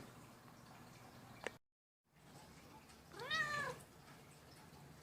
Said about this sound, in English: We're going to have to move the kitty first.